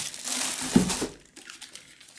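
Plastic bubble wrap packaging from a Philips HD7459/20 coffee maker crinkling as it is handled up close, a busy rustle for about a second that then fades to faint scattered rustles.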